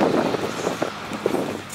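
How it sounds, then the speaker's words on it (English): Wind buffets an outdoor flea-market stall in Monmouth County, New Jersey, a rough, continuous rumble of gusts against the microphone with no clear talk over it. "It's windy out today"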